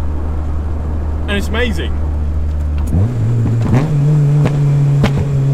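A Honda EG Civic with a swapped K20A2 engine accelerating, engine note rising through revs after a brief shift, loud and close, with someone talking briefly over it.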